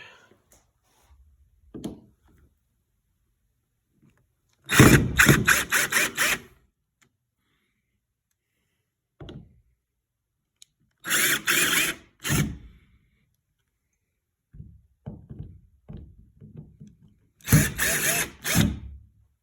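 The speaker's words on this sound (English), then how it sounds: "Alright, got most of the screws out." Screws are backed out of basement wall panels during a renovation, heard as three loud buzzing power-driver bursts separated by quiet gaps, plus scattered clicks and knocks, close by.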